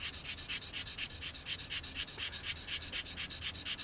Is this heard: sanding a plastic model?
yes